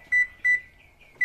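A kitchen baking timer in a home cookie business sounds three sharp, loud electronic beeps, evenly spaced and alone in a quiet room.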